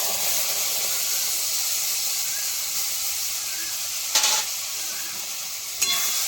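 A steady, loud sizzle of ginger paste frying in hot oil with turmeric, with a couple of brief scraping stirs toward the end.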